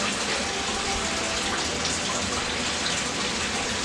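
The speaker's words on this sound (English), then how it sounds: "just pour in this soil around it" Potting soil pouring around a transplanted tomato plant, a close, continuous rushing hiss that stays even throughout, with no talking.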